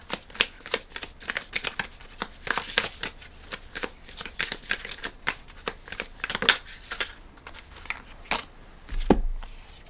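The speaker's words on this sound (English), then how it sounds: "I'm just going to pull one more card." Tarot cards are shuffled and drawn in a quick run of crisp riffling slaps and flicks that keep up close and steady, with a brief soft thud near the end.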